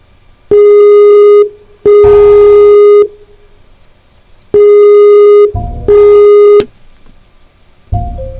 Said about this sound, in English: I'm going to get Dr. Ruehl on the phone right now.